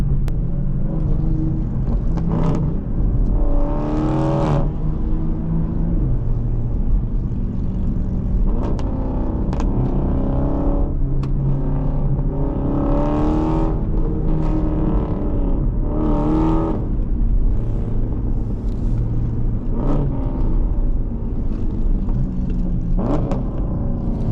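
A loud widebody Scat Pack car engine rumbles steadily from close by at night, its pitch rising and falling repeatedly as the driver revs and shifts gears.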